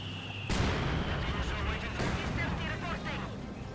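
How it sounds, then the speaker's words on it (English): A Katyusha rocket barrage in Company of Heroes 2 hits with two heavy, booming impacts a second and a half apart, each followed by rumbling explosions under a dense battle din. "And Katusha barrage, eyeing for a barrage somewhere."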